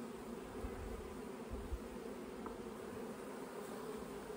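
Honeybees buzz in a soft, continuous drone on a hive frame up close, with small flickers of wingbeat over a faint steady hum.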